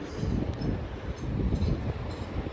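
A Southeastern electric multiple unit running from London Charing Cross to Ramsgate via Canterbury West rumbles steadily past at Ashford International, a continuous low mechanical roar at moderate distance with no voices.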